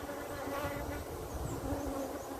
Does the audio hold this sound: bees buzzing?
yes